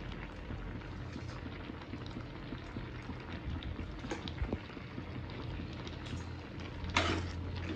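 Tomatoes simmer in a pot for homemade ketchup, with a continuous low bubbling and spattering close by and a brief louder burst near the end. No one speaks.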